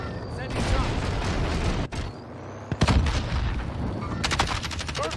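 Rapid bursts of automatic gunfire from a Call of Duty Warzone match, loud and close, with sharp single shots and a fast rattling volley near the end, while players talk over it.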